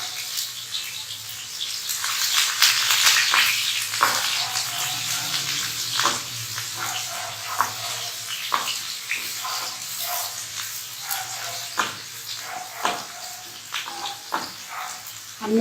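Onions, together with whole dried red chillies, fry in hot oil for palak rajma, giving a steady, bright sizzle with crackles and pops as they are stirred, close and continuous, with no voices.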